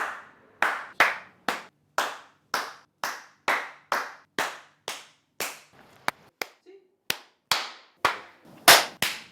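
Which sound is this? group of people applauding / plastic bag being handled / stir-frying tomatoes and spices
group of people applauding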